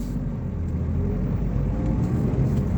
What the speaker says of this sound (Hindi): रेस दे रहा हूँ मैं।